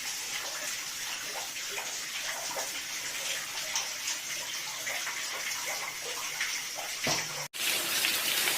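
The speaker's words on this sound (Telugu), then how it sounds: "ప్రతి ఒక్క రోజు నీళ్ళు అభిషేకం అవుతుంటుంది దేవునికి" Water gushes and drips steadily inside a natural cave shrine to Shiva in the Nallamala forest, a close, continuous wash of flowing water that cuts out briefly near the end before resuming.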